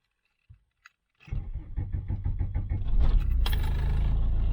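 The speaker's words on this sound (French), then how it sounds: "Alors, démarrage à chaud." A high-mileage VW Golf 2 diesel is hot started after a couple of faint clicks: the starter cranks in rapid rhythmic pulses for about two seconds, then the engine catches and settles into a loud, steady diesel idle close by.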